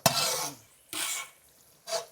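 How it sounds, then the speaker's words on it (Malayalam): Raisins fry in a large pan during bulk carrot halwa cooking, with three distinct scraping stirs over a sizzling hiss, each stroke close and brisk. "അടുത്ത് മുന്തിരി, ഇതും ഒന്ന് വറുത്തെടുക്കട്ടോ."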